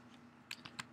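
A few quick keystrokes on a computer keyboard while entering a spreadsheet formula, three or four sharp close clicks in a quiet room.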